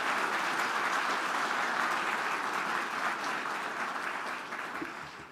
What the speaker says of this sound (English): a round of applause for those public servants